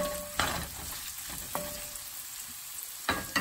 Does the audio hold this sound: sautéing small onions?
yes